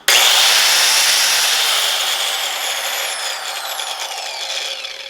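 A 4 1/2 inch angle grinder spins up sharply and then winds down, its loud high whine fading gradually with a falling pitch, heard alone.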